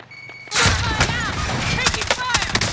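Bursts of gunfire from Call of Duty Warzone, where an MP7 is in play, erupt loudly after a brief quiet start and continue as a dense rapid fusillade with sharp cracks, while excited players talk over the shooting.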